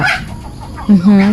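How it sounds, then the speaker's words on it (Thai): Backyard chickens cluck close by in a brief burst, with a drawn-out, higher call near the end. "ตื่นเช้ามาก็ได้ยินเสียงไก่ขัน"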